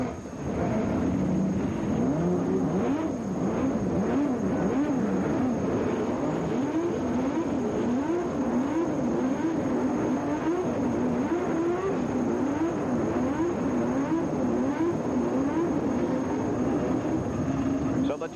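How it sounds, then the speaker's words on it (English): Race car engines idle and rumble together at the start of the 1983 CART Kraco 200 in Atlanta, a steady mid-distance drone with a wavering, repeating pitch beneath continuous commentary. "Now 22 cars have started their engines and they're ready for this 200 miles."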